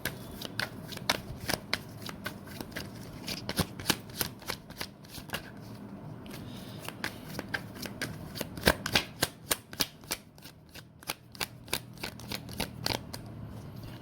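Tarot cards shuffled by hand in a steady run of crisp riffling flicks and soft slaps, close and fairly loud, with no talking.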